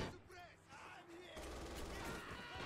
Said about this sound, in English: they're shooting from the window